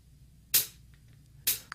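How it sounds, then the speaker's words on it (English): Two sharp, bright metronome-style clicks about a second apart mark a steady beat for a piano scale exercise, standing alone over a faint background hum. "this time we're going to have a little click going that's going to keep the beat"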